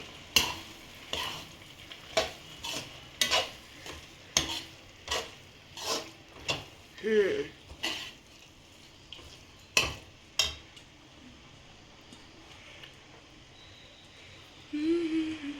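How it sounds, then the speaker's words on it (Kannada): A spoon stirs flattened rice (avalakki) into tamarind gojju in a pan on low flame. The stirring comes as a series of distinct scraping knocks at a steady rhythm, with a faint sizzle underneath and a short pause near the end. "ಸ್ವಲ್ಪ ಸ್ವಲ್ಪ ಹಾಕ್ಕೊಂಡು ಮಿಕ್ಸ್ ಮಾಡಿದ್ರೆ ಕ್ಲೀನಾಗಿ ಆಗುತ್ತೆ"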